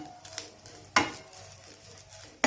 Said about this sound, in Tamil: நம்ம எடுத்து வச்ச இந்த தேங்காய் பூவை நெய்யில் நல்லா வறுத்து எடுத்துக்கலாம்.